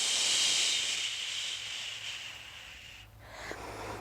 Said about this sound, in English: You can add that SH sound.